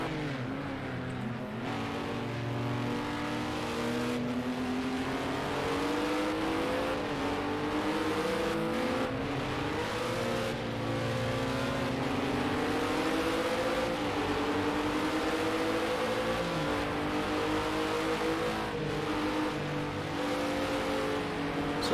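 Race cars in an Xbox racing video game run continuously through a corner at Surtees, with steady engine drone and shifting pitch from several cars, loud and sustained with no break.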